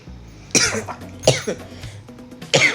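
Three harsh, close coughs from a person with a cold, spaced about a second apart, each a short raspy burst with a little throat noise between.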